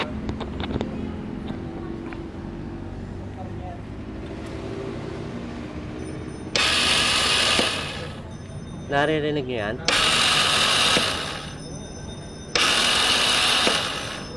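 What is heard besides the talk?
Kymco Super 8 scooter starter spinning without engaging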